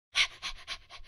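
A dog pants in the Elmo Master Chef Kid video game: a quick run of about five close, breathy huffs in steady rhythm, loud at first and then a little softer, with no talking.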